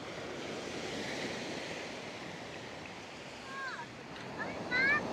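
Rough surf breaking on a rocky shore on the Puerto Vallarta coast after a hurricane, a steady roar of waves with wind buffeting the microphone and faint distant voices over the wash.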